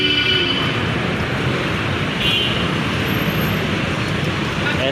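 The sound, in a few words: road traffic noise on EDSA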